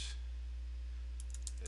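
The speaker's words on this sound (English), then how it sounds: "I'm just typing stuff out for purpose of training" Faint clicks of typing on a computer keyboard sit under a steady, loud hiss and hum, with a short run of keystrokes near the end.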